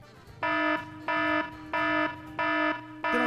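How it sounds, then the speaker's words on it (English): Phone app alarm in the Supreme League of Patriots video game, loud harsh buzzing beeps repeating in four even bursts with short gaps, then a fifth starting, with no voices over it. "as well as sounding an alarm"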